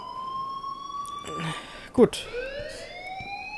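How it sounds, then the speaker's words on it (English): Alarm ringing inside the video game Life is Strange, a steady electronic tone running under a brief spoken word and a sharp noisy burst midway. "please turn off that alarm"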